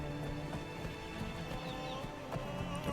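Horse hooves clip-clopping during a ride in Skyrim, a quiet steady rhythmic trot behind a game soundscape.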